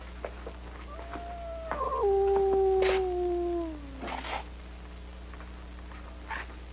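A dog howls in a long, wavering cry that rises and then slides downward, heard alone over a quiet, steady background hum with a few faint knocks.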